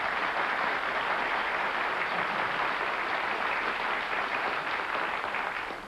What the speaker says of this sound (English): Despite the crazy applause from this audience